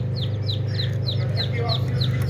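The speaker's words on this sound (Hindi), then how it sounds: "ये मुर्गी के चूज़े बाहर आ गए हैं" A hen and her newly hatched chicks in a home coop: repeated high, thin chick peeps chirp in a quick irregular series over a low, steady background hum, close by.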